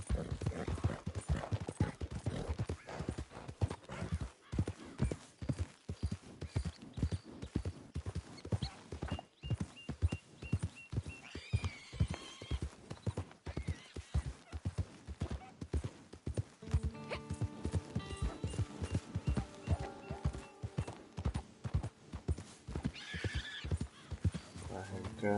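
A horse trots steadily in Red Dead Online, its hooves clip-clopping in a quick, even rhythm throughout, close and clear, with a brief whinny and faint game sounds in the background.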